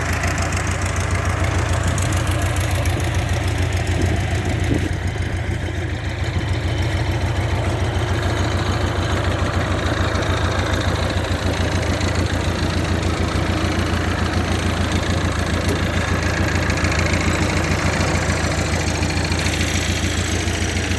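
A Belarus Model 822 tractor engine, left sitting unused for a long time, idles steadily and loudly with a deep, continuous rumble and a faint knocking texture that never lets up.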